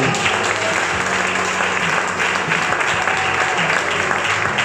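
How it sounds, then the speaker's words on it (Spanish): A church congregation claps loudly during a sermon, a dense, sustained roar of hands that fills the room evenly from start to finish. "Aplaude fuerte al Señor"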